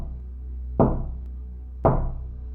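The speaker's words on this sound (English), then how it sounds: "I'd hear 3 knocks." Two heavy, hollow knocks on a wall between two bedrooms, loud and close, each with a short ringing decay and a long pause between them, alone in a quiet room.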